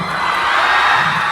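An audience at a live outdoor comedy show in Siaton, Negros Oriental, claps and cheers with whoops and shouts, a brief, loud, continuous burst of crowd noise.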